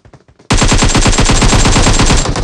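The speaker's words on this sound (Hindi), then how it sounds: "तभी मुझे पीछे से शॉट्स आते हैं" Sustained automatic gunfire from PUBG Mobile rattles out in a loud, rapid, unbroken burst after a few faint taps, close and dominant for about two seconds.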